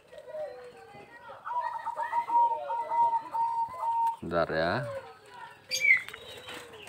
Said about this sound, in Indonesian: perkutut yang saya pegang ini adalah perkutut udan mas kebak